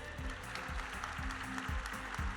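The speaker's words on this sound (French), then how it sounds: "applaudissez-les très fort s'il vous plaît" An audience at a Japan Expo game show claps for the arriving challengers. The applause is moderate and continuous, mixed with faint music and sliding tonal sounds.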